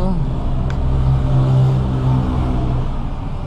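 A car engine revved during a fuel pump pressure check on a car with a faulty fuel pump: a steady, close rumbling drone that swells slightly and settles without any sharp peaks.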